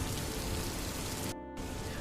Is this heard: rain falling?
yes